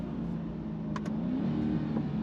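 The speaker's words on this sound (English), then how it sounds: "Downshifts like lightning." Chevrolet Corvette Stingray 3LT sports car engine droning steadily at close range, its pitch shifting as the gearbox downshifts, with a couple of brief sharp mechanical clicks in the middle; no talking.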